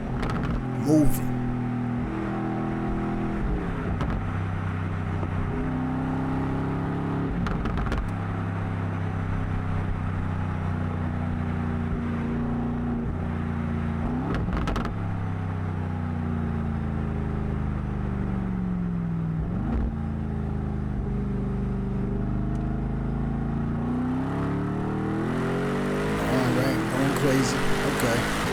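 A 2026 Aston Martin Vantage S engine drones steadily from inside the cabin while driving, with gear changes and swells in revs, under occasional talk.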